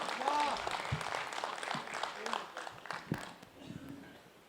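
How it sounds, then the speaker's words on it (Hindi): An audience at a Hindi kavi sammelan poetry event in Raigarh claps loudly, a scattered burst of applause mixed with voices that gradually thins and fades out. "एक बार जोरदार ताली बजा करके अपनी ऊर्जा मंच तक पहुँचाएं"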